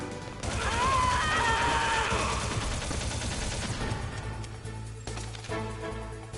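Gunfire and combat noise in Metal Gear Solid, a dense continuous clatter of shots and impacts that stays loud for several seconds, then breaks off into quieter game sounds, with no voices.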